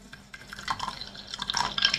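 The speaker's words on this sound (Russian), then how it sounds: "Наливаю 40 грамм холодной воды." Cold water pours and splashes into a thick-bottomed metal saucepan, building in loudness over a couple of seconds.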